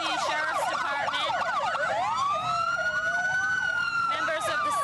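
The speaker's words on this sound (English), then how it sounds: "putting on quite a show of sirens, I might say" Suffolk County Sheriff's Department vehicles sound their sirens while passing in a Columbus Day parade, a loud overlapping mix of rising wails and rapid yelps that sweep up and down continuously.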